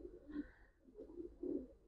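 Tumbler pigeons in a coop give soft, low cooing calls in a few short bursts, fairly faint and close, with no talking over them.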